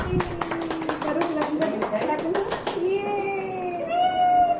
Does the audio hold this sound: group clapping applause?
yes